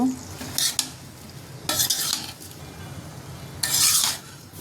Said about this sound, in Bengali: ভালো করে নেড়ে চেড়ে নিয়ে একটা ঢাকনা দিয়ে ঢেকে রাখবো